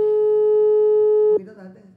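A telephone call tone sounds as one steady, loud electronic beep held for over a second, then cuts off abruptly into a faint, muffled line noise and a voice.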